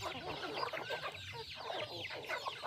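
Several chickens cluck and murmur continuously, close by, their calls overlapping in a busy, steady chatter with no talking.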